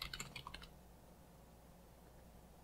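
Fingers tap out a command on a computer keyboard in a quick burst of light clicking keystrokes, fairly faint and close, followed by a quiet pause.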